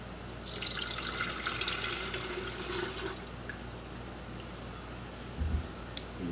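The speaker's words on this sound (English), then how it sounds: "I have 2 cups of water that I'll be using, and I'm just going to add it to my electric water kettle." Two cups of water pour into a Topwit electric kettle, a bright splashing gush for about three seconds that then fades, followed by quiet with a brief knock near the end.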